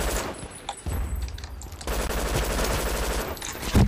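Rapid automatic gunfire in the Brink video game, loud and close, rattling in dense continuous bursts with brief gaps.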